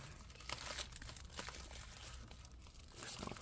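Plastic tape is torn and crinkled off a 16-inch MacBook Pro A2141, giving faint, close crackles, rips and rustles in quick irregular bursts with no talking.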